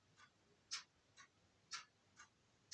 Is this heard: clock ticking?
yes